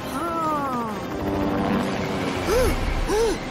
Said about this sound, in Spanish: ¿Helicóptero? ¡Súper!